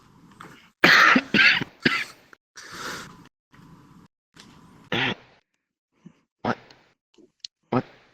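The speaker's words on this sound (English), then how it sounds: "you cough yourself awake" Several sharp coughs come in a quick burst, then a throat clearing. Short, scattered vocal sounds and clicks follow in a quiet room, close to the microphone.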